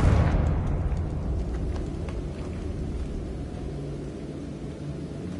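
A Confringo fire spell from Hogwarts Legacy bursts with a loud explosive boom at the start, then fades into a rumbling, crackling tail that persists under low noise.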